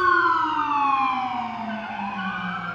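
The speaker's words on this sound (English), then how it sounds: "the sirens are much nicer listening to in London than here" A loud wailing siren sweeps slowly downward in pitch, steady and close, with layered harmonic tones and traffic rumble underneath.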